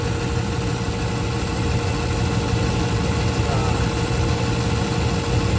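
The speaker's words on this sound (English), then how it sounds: "I don't know that you can hear it because of that noisy induced draft." Noisy induced draft fan of a Trane gas pack unit roaring steadily and loudly, a constant low droning hum with broadband rushing air noise that holds unchanged throughout, no voices.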